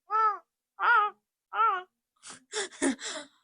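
Human voices imitate crows cawing with three evenly spaced, nasal caw calls, followed by a quicker cluster of rougher, breathier caws and gasps, close and alone without plain talk.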